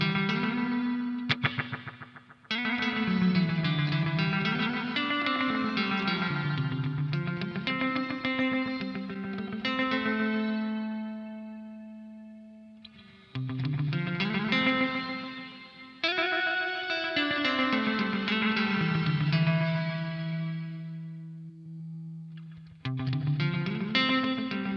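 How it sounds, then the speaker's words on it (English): Revv Generator 100R MKIII guitar amp with its built-in reverb switched on alongside an effects pedal, producing sustained chorused, echoing clean guitar chords and swelling notes in phrases, loud and continuous with reverb tails between strums. "I'm going to turn on the amps reverb and we'll hear it along with the pedal"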